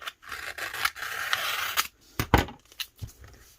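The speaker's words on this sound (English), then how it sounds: "I like to peel up the edge of my vinyl, cut a strip off" Scissors snip through a strip of vinyl peeled up for a 3D dragonfly cup wrap, giving a few sharp, close cutting crunches after a stretch of softer scraping and handling.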